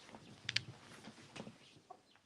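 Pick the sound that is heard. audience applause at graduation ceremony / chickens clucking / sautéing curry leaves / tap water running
chickens clucking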